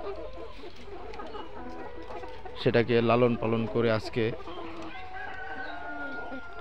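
Layer hens on a poultry farm clucking in a loud burst of rapid, repeated calls midway, over a constant farm din, while someone talks throughout.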